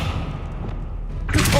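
Confringo and Descendo spells cast in Hogwarts Legacy land as a dull thudding rumble that swells into a brighter, louder burst near the end.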